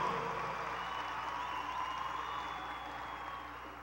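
A large crowd applauds at a Marcha para Jesus rally in Limeira in 2016, a dense, steady wash of clapping that fills the whole stretch and eases off slightly toward the end.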